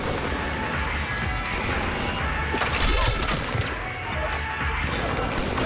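Mass Effect 3 combat on the Citadel fills the clip with dense, continuous gunfire, crashes and impacts, loud and chaotic throughout, with scattered game voices buried in the din.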